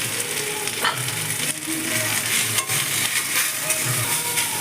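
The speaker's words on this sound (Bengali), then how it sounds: "আর এটা কিছুক্ষণ ফ্রাই করবো" Paste of young taro leaves ground with salt and turmeric fries in a hot pan with a dense, steady sizzle, broken by occasional spatula scrapes as it is stirred.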